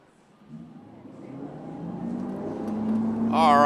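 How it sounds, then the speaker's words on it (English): Award-winning Nautique ski boat engine opening up to full throttle at a pro slalom tournament, a low droning roar that climbs steadily in loudness and pitch, ending in a strong rising whine. "mashing the throttle down. We've got Becky Lathrop at the helm of that award-winning ski nautique"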